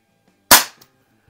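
A single sharp shot from a Crosman SNR357 CO2 revolver, a loud close crack that decays quickly, followed by a faint small click, otherwise quiet.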